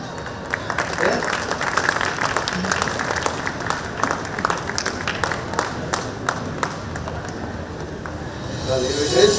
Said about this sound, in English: I guess it's taking time because none of you is clapping.